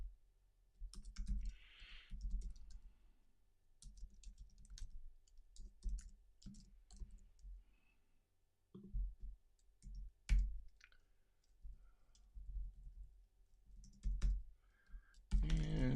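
Keyboard keys and a computer mouse click in quick irregular bursts at close range during a live online software session, with short pauses between flurries of typing.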